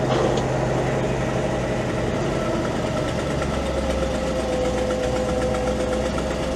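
A crane truck engine runs with its PTO engaged, a loud, steady idling rumble with a faint rattling vibration that continues evenly throughout.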